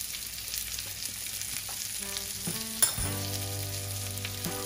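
Garlic cooking in a pan beside pasta and salmon, giving a steady close sizzle with a few utensil clinks and scrapes and a brief louder knock midway, with no talking.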